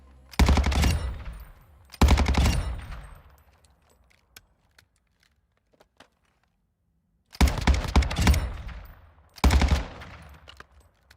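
Gunfire from a weapon in Black Ops Cold War Zombies, four loud, sharp bursts in two pairs separated by a quiet gap with faint clicks.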